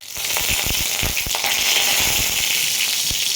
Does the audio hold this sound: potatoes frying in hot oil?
yes